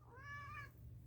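A cat gives a single clear meow lasting about a second, close by and fairly quiet, with no talk over it.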